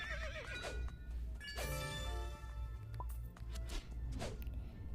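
A horse in a horse life video game neighs and whinnies loudly several times, with quavering calls over a steady background bed.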